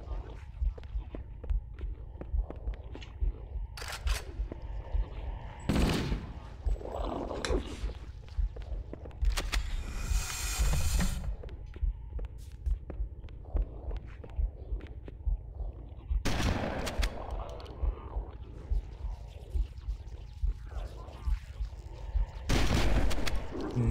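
Shotgun blasts from Halo: Combat Evolved against the Flood, a handful of heavy booming shots spaced several seconds apart amid running footsteps and game noise, with occasional commentary in between.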